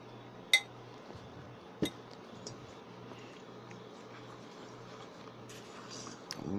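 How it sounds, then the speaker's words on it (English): Streusel crumb mixture being mixed into the liquid filling for a Pennsylvania Dutch shoo fly pie, with a few faint, sparse utensil clinks against the bowl in a quiet room. "Mix that up really well."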